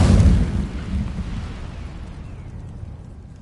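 An Incendio fire spell cast in the video game Hogwarts Legacy bursts out in a loud whooshing rush of flame that fades away over a few seconds.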